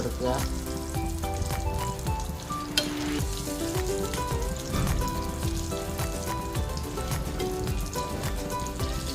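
Tapioca cutlets fry in hot oil, five at a time, with a dense, continuous crackling sizzle at an even level throughout. A soft voice can be heard faintly in the background.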